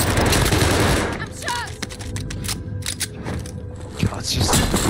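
Dense bursts of automatic gunfire crackle through a multiplayer video game shooter firefight, sustained and loud with rapid overlapping shots and a sharp thump near the end, while players talk excitedly over the shooting.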